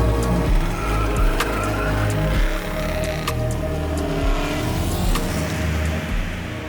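A loud, rumbling Ford Model A hot rod engine idles close by, its deep throb rising and falling with occasional sharp clicks over the top.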